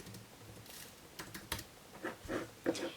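Quiet, irregular keystrokes on a computer keyboard, a dozen or so light clicks in uneven bursts, close and faint with no talk.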